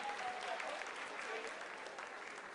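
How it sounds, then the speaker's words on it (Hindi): Audience applause at ISRO mission control during the Chandrayaan-3 lunar landing, a steady dense wash of clapping sustained throughout, fairly faint and distant-sounding. "आप तालियों के गड़गड़ाहट से सुन सकते हैं"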